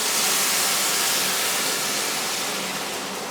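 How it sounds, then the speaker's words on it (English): Loud, steady sizzling hiss of water hitting a hot pan, close up and continuous throughout. "So again, nice hot pan, it's sizzling."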